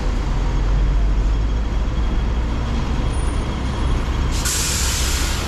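A tour bus rumbles past near the A-Ma Temple in Macau, a loud low engine drone that fills the street, ending with a sharp hiss of air brakes.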